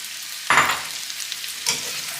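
Sliced button mushrooms dropped into a hot pan for chicken marsala: a sudden loud sizzle burst, fading quickly, then a second smaller burst as more go in, over a quiet background.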